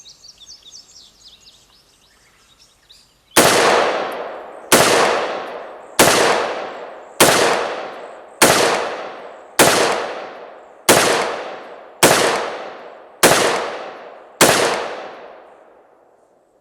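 Ten loud rifle shots fired outdoors in cold air at an even pace, each a sharp crack with a decaying echo, after a few quiet seconds of faint bird calls.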